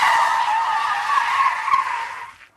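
Car tires squeal loudly and steadily as a vehicle pulls out of a parking lot, picked up on a cell phone; one sustained screech of about two seconds that fades out at the end.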